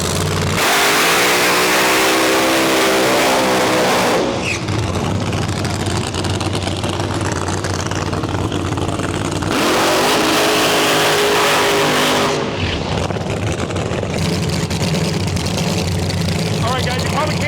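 Nitro Ultra drag racing cars at the Rocky Mountain Nationals in Western Canada, with engines roaring loudly at close range in several long sustained bursts separated by brief rising revs, a continuous thunderous wall of noise.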